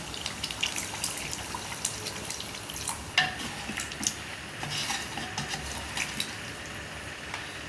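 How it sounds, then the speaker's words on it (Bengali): Beef curry being stirred in a pot after a splash of hot water, with steady sizzling and repeated scrapes and clinks of a utensil against the pan, moderately close and without talk. "পানি দিয়ে একটু নেড়ে চেড়ে"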